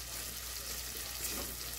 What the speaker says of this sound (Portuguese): ele tá fritando aqui